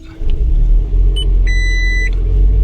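A car engine runs after being started with a FOXPEED G29 battery jump-starter pack, giving a steady close rumble with a few short electronic beeps over it.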